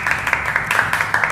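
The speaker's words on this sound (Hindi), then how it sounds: "एमए प्रोडक्ट की क्वालिटी प्रेजेंटेशन के लिए वंदना गौड़ को जबरदस्त तालियां दीजिए।" An audience claps steadily and fairly loudly for a product presentation at an entrepreneur team meeting, a continuous patter of many hands with no pauses.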